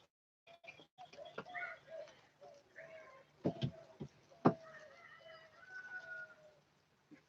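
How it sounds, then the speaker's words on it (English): Doves calling and cooing repeatedly in the background in Costa Rica, fairly faint, with a few sharp knocks and distant outdoor noise. "If you guys can hear the doves, there's so many doves in the background."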